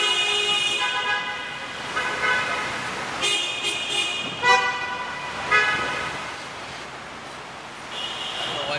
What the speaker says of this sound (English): I don't know why everybody's honking in a tunnel.